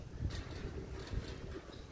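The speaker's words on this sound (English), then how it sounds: "Excuse the wind, because we've been having" Strong outdoor wind gusting against the microphone, buffeting in uneven low rushes over a brief stretch, no speech.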